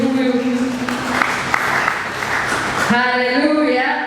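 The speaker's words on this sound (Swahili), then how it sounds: "Mpigie makofi yule ambaye hakuna kama yeye" Church congregation applauding Jesus during a Swahili sermon: a sustained wash of clapping and crowd noise, fairly loud, with a preacher's amplified voice speaking over it at the start and again at the end.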